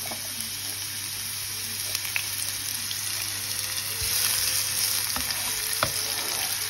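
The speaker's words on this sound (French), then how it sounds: "Dans le poêle bien, bien, bien chaude. Là, je mets les oignons." Onions sizzle in oil in a very hot frying pan, a steady close crackle with scattered pops and a few utensil clicks, no voices.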